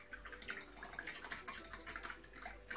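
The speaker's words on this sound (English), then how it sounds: "wash your brush in water" Watercolour paintbrush being swished and washed in a water pot, with soft irregular splashing and sloshing that continues steadily throughout, close and fairly quiet.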